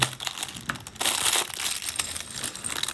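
A plastic packet from a Lego advent calendar crinkles and crackles as it is pulled and twisted open, loud and close with sharp bursts and a rough rustle in between.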